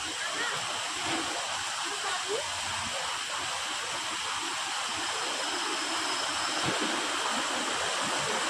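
A mountain stream of clear water, drinkable and much fuller in the rainy season, rushes steadily nearby, a constant broadband hiss and gurgle with no pauses.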